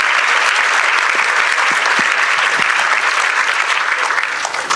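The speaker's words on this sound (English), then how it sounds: "Let's give him a round of applause as he makes his way to the stage." Steady, dense applause from a conference audience welcoming a panelist to the stage, loud and continuous throughout with no talking over it.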